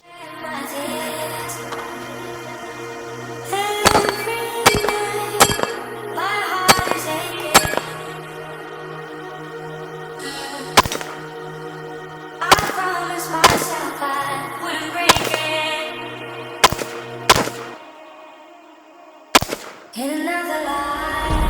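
Rifle fire at an IPSC practice stage: about a dozen loud, sharp gunshots ring out in irregular clusters and doubles over a steady low hum, close to the microphone, with no voices.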